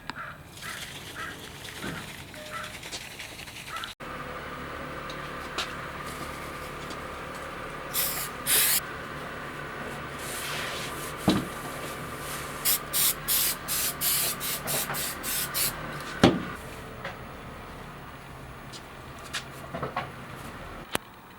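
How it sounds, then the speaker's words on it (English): Aerosol wax and grease remover sprayed onto a fiberglass fender's gel coat surface, heard as a series of short hissing spray bursts, close and fairly loud, with a few faint knocks between them and no talking. "you want to use a wax and grease remover to remove any of the debris that's left on top of the gel coat"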